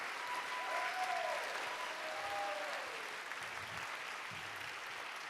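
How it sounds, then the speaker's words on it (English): A live Ignite Seattle crowd applauding the event organizers, with dense and sustained clapping that holds steady before easing slightly toward the end. "Round of applause for them."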